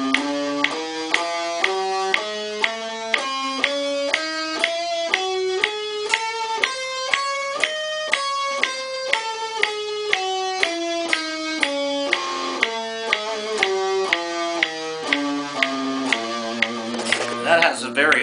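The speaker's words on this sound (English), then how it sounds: "another mode that you may never have heard of at all, but which I've recently found out, is called the Lydian sharp 9 mode, and it sounds like this." Lydian sharp 9 mode from the harmonic minor modes played as a fast run of single notes climbing and then descending, each note plucked crisply and evenly, bright and close with no talking.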